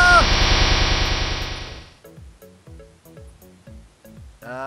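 Energy beams firing and clashing in the Minecraft Dragon Block C mod: a loud sustained roaring blast that fades out, followed by a run of sharp repeated zaps and pulses.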